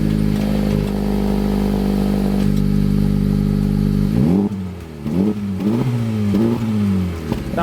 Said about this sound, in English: if you put it in R+ mode, the valve opens up and you get a louder rumble.